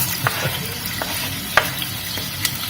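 Onions roast in a pan for a Mauritian dish, giving a continuous dense sizzle with a few light clicks and taps of stirring utensils, close and steady, with no talking.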